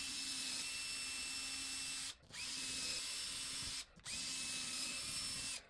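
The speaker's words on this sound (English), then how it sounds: "and then go to the bigger drill bit." A power drill with a larger bit enlarging holes in a wall for a TV mounting bracket, whirring in three long, steady runs separated by short pauses, loud and close, with no voices.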